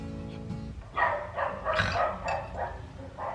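A dog barks repeatedly in short, sharp bursts, fairly close, with a few yips mixed in over quiet background noise, in Peru.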